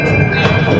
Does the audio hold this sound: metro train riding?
yes